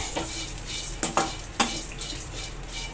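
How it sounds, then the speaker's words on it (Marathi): Dried shrimp (jawala) roast in a kadhai, soft crackling under a few sharp metallic scrapes and clinks from a spatula stirring them, close by with no voices. "आता ह्याच्यामध्ये आपण हा जोवला भाजून घ्यायचा आहे"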